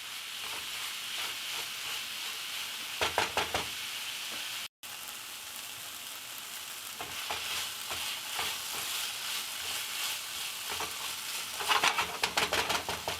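Vegetable lo mein stir-fries in a pan with a constant sizzle, broken by a few scraping stirs of the utensil, close and fairly quiet with no talking.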